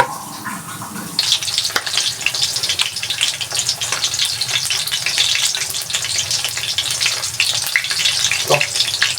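Chicken pieces frying in hot oil, a dense crackling sizzle that swells after a quieter start and continues steadily and close up, with occasional stirring noises.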